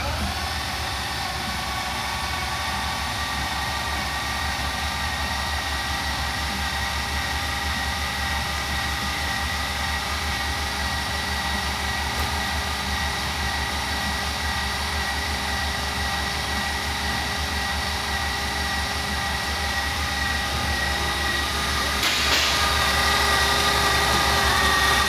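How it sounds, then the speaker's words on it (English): A Lamborghini Diablo VS engine, dormant for 14 years, spins over on the starter without firing, a steady mechanical whirring churn heard up close that grows slightly louder near the end. "see how it sounds spinning over"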